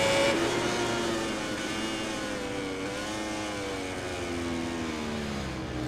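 A racing motorcycle engine in MotoGP 20 whines loud and steady at high revs on the final lap, its pitch dipping briefly and climbing again as it shifts, with no voices.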